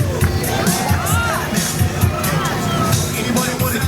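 Air show crowd cheering for motocross riders, a loud wash of shouting and cheering, with children's voices and babble layered throughout.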